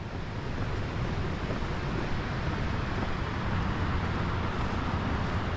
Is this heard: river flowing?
yes